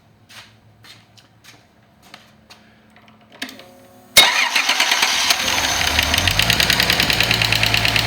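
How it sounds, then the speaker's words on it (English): Turbocharged engine on a run stand, quiet mechanical clicks at first, then it fires abruptly and settles into a loud, steady running roar with a rhythmic pulsing clatter. "Let's hear the engine run, right?"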